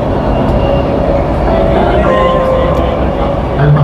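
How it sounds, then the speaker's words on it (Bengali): A Dubai metro train at a metro rail station, a steady, fairly loud rumble and hum running under voices for a few seconds. "এবং আমি রয়েছি মেট্রো রেল স্টেশনে।"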